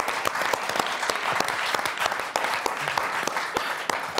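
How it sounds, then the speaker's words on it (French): Brisk applause from the studio audience of the French game show Motus, a steady burst of many hands clapping close and loud throughout. "on vous applaudit très fort tous les quatre"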